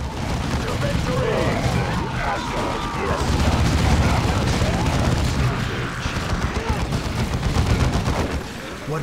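Battle gunfire in the Dawn of War 2 video game rattles on continuously and loudly with booming impacts and dense explosions, while voices shout over the din.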